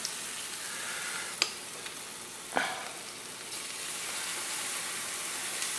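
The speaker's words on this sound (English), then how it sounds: "We're going to go ahead and start laying down these fritters" Fritter batter spoonfuls frying in oil in a skillet give a steady, dense sizzle throughout, with a couple of brief sharp spits and pops standing out above the continuous crackle, no voices.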